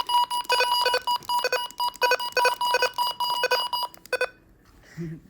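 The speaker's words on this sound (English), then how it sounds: "Messing with the button beeps." A series of sharp electronic button beeps from a Midland HH54VP two-way radio in quick, irregular bursts, loud and close, then stopping abruptly.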